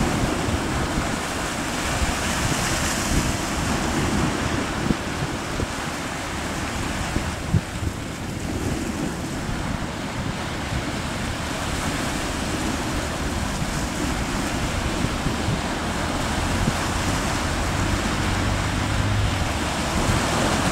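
Strong wind and pounding waves around a fishing boat heading out to sea, a dense continuous roar of wind and surf with no clear breaks and no voices.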